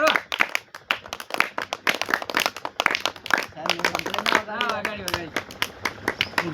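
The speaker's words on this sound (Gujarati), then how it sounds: "વાહ તાળી મારો ભાઈ" Students in a classroom clap their hands, a run of quick sharp claps near and loud, followed by a rising burst of group clapping, with voices talking and calling out throughout.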